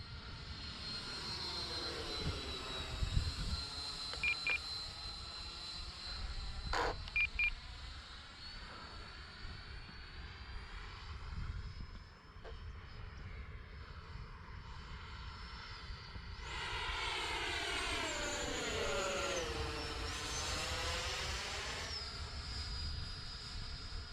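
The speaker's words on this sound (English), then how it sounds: "Right now I'm flying around with the flaps on." X-Fly Sirius 80mm EDF radio-controlled jet flies with its flaps down: a steady whine of the ducted fan drifts near and far, swelling louder toward the end, with a few short beeps early on.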